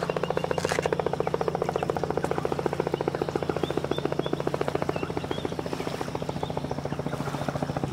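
Helicopter flying over the Great Barrier Reef in Australia, a steady rapid rotor chop with engine drone, continuous and fairly loud throughout, alone without talk.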